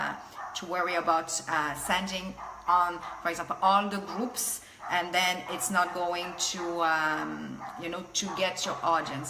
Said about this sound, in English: Sorry about my dogs, they're outside barking.